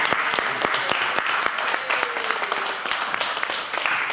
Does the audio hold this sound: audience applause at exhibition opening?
yes